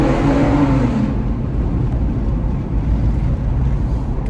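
A Ford Bronco Raptor's engine, turbo boost coming on quickly in sport mode, drones loudly from the cabin with a deep, steady low rumble as it accelerates.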